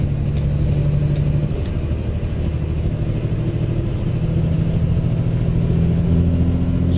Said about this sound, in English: I think it's a Caterpillar engine that we have in here.